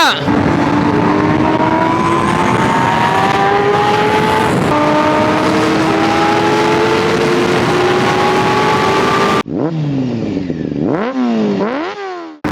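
A Kawasaki ZX10R superbike roars loud and close with traction control off, its engine climbing through gears in long rising sweeps, then revving up and down sharply near the end. A voice is heard over the engine.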